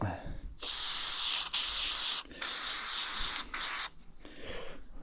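Lube sprays from a can onto a small model wrecker in three loud, close hissing bursts with brief pauses between them, followed by softer handling noise.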